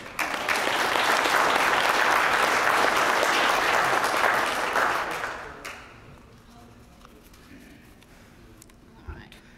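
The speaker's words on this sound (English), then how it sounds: "Please give a round of applause for Miss Megan." Audience applause at a speech contest, a dense burst of clapping that holds strong for about five seconds and then fades quickly into a quiet room with only a few scattered claps.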